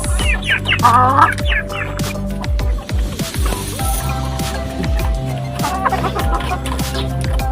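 Backyard chickens crowd in as they are fed feed and rice, a loud, close chorus of overlapping clucks and squawks with scratching and pecking noises underneath.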